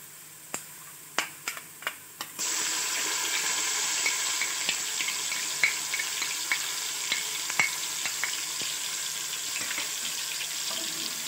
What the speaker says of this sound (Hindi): अदरक लहसुन का पेस्ट इसमें शामिल करने के बाद अब हम इसको भी हल्का सा फ्राई कर देंगे